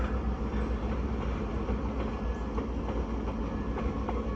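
A passenger train rumbles steadily with a low roar, faint rhythmic clicks from the wheels on the rails, and no voices.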